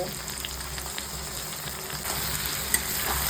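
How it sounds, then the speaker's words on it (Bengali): Onion and capsicum fry in hot oil for chilli chicken, producing a continuous even sizzle with a few faint stirring knocks, close and steady throughout, with no talking. "এইবার পেঁয়াজ আর ক্যাপসিকামটাকে একটু ভালো করে ভেজে নেব।"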